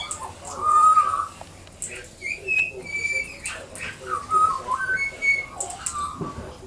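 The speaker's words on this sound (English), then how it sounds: "So our young magpie up there making his noises." A young magpie calls from up high, sending out a string of short whistled and warbling notes in irregular bursts, moderately close, with other birdsong around it.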